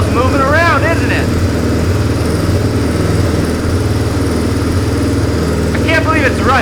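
A HONDUKI motorcycle engine idles unevenly, a steady loud throbbing rumble that wavers in pitch, heard close with brief whistling tones near the start and end and a voice speaking over it.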